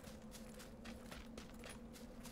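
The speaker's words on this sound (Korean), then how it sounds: "그쪽에서 계속 총소리 들려" Faint, rapid gunfire rattles in bursts in a video game, distant and quiet beneath a low steady hum.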